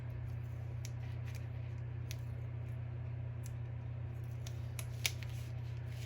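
Scissors snip through scrapbook paper in a quick series of light crisp cuts, close and faint over a steady low hum, with no talking.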